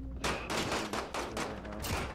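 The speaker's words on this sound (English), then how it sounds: "Taking fire!" Modern Warfare gunfire on a hardpoint map comes as rapid, loud automatic bursts, a dense rattle of shots close by in quick succession with little else around it.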